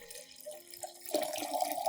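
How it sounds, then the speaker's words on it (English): Clean water being poured into a solution to dilute it, a faint trickle that turns into a brighter, steady splashing pour partway through. "Add 1 liter of clean water to dilute the solution."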